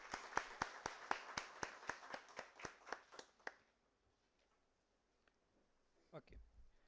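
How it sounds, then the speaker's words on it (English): Audience applause welcoming guests at an academic conference, a round of sharp, fairly steady hand claps that fades out after a few seconds, leaving a quiet hall with faint rustling and a brief voice near the end. "Ladies and gentlemen, let's welcome them with a big round of applause."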